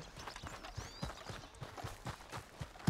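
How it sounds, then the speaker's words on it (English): Horse hooves clip-clop steadily in a western open-world video game, a regular rhythm of close, moderately loud hoofbeats with faint background ambience and no talk. "But my horse ain't close. There he is."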